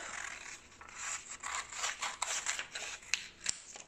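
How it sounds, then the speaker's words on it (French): Scissors cutting a fabric dress pattern: close, quiet rasping snips and rubbing of cloth and paper, with a few sharper clicks toward the end, no one speaking. "j'ai tout simplement retracé ça et je vais découper"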